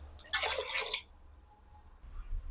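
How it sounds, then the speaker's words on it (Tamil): Water poured into a cooking pot for rava kichadi, a short bright splashing burst lasting about half a second, then quiet drips and low background hum. "இப்போ ரவைக்கு தேவையான தண்ணியை சேர்த்துப்போம்."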